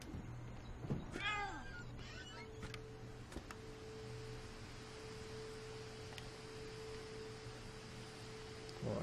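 A cat in the video game What Remains of Edith Finch lets out a clear, fairly close meow early on, followed by a few faint clicks over a low steady drone.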